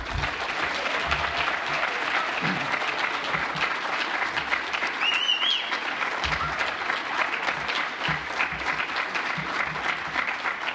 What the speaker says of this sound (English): Can we give all these students a round of applause?